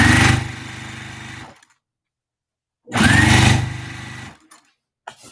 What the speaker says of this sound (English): I started sewing without doing anything else.